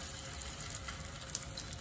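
Pre-coated whole chicken pieces fry in a hot pan, giving a steady close sizzle and crackle throughout with one brief sharp pop partway through; no voices.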